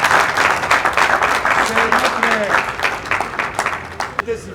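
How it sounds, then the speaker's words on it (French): Council members clapping at a Kinshasa city gathering, a sustained burst of applause from a crowd, with voices calling out over it before it thins toward the end. "Chers conseillers, si vous pouvez vous lever, vous m'acclamez."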